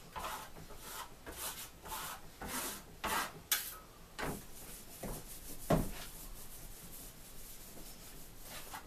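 Venetian plaster being rubbed with metallic powders in a Delaney style lines finish, giving a series of close, rhythmic scraping and rasping strokes that rise and fall in bursts with brief pauses between them.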